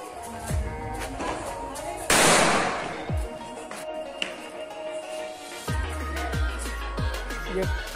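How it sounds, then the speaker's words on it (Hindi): Several sharp firecracker bangs go off at irregular intervals during Diwali, with one loud hissing burst in the middle, amid outdoor background noise. "ये पटाखा फोड़ रहा है"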